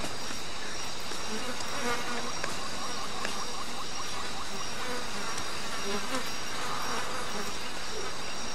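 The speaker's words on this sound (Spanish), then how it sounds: "Panales de abejas." Bees swarm around beehives on the savanna in Ancestors: The Humankind Odyssey, a constant dense buzzing drone with a few higher insect whines layered over it, steady and close throughout.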